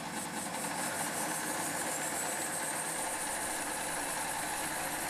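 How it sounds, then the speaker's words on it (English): Belt sander beside an ME250 horizontal bandsaw running steadily with a constant dense whirring hum and a faint high whine, unchanging and fairly quiet throughout. "Press the green button to turn the belt sander on."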